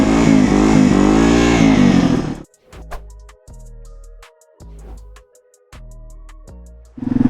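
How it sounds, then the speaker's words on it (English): A vehicle engine revs hard as its back tire spins without traction on icy snow and black ice, a loud roar followed by a series of short, choppy throttle blips and whines. "you just spin up this back tire, it's got no traction"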